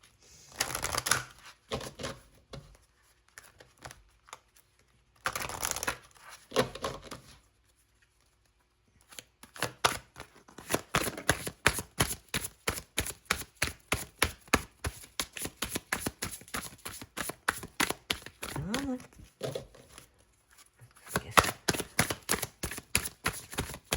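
Cards are shuffled close up: a few riffles early on, then a long run of rapid, rhythmic slapping of cards being shuffled by hand, with brief pauses.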